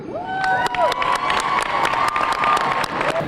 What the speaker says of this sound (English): give a round of applause to Miss MC Lyte